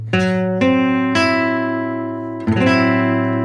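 A minor 6 chord on guitar is strummed four times, each ringing out and slowly fading, with a pause before the last strum.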